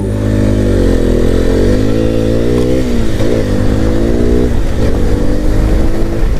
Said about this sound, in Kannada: zero to hundred challenge in hero ಎಕ್ಸ್ಪಲ್ಸ್ to ten